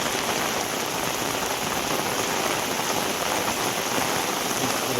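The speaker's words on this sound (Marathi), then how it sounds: "जोरदार पाऊस आहे सगळीकडे पाणीच पाणी झालेलं आहे" Heavy rain pours down steadily in Kudal, a dense, constant roar of drops hitting surfaces with no letup.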